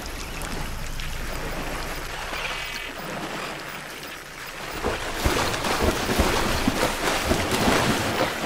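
Rushing water in the indie horror game Scanner Sombre, a loud, continuous roar that swells noticeably stronger and rougher in the second half.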